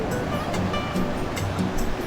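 Waves at Siung Beach in Yogyakarta make a steady, broad roar of surf, with no breaks and faint brighter splashes now and then.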